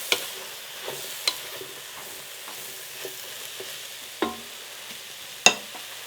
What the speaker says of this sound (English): as you can hear, it is sizzling